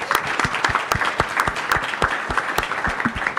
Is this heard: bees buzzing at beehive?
no